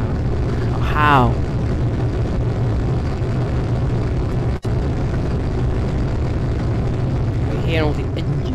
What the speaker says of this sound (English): I hear all the engines.